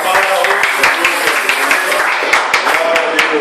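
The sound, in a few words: church congregation clapping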